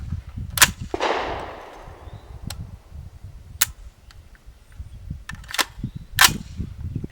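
Several sharp rifle shots from a Scorpio .223 Czech-made round, fired through a barrel under test outdoors: loud isolated cracks spaced a few seconds apart, one with a ringing tail, over steady wind and background noise.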